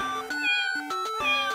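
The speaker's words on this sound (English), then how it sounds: "That's a kitty cat, not a tiger." A cat meows several times in quick succession, close and clear, with a few short rising and falling cries and no talk.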